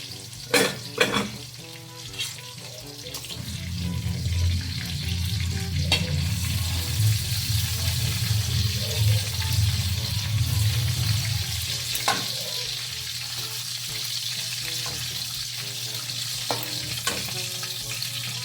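Tambakol fish frying in a pan, a steady loud sizzle and crackle that swells after a few seconds and holds, with a few clinks of a utensil against the pan.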